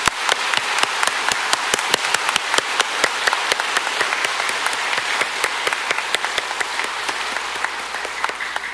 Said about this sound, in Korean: 하나님 대신 그분들에게 우리 열렬한 박수 보내겠습니다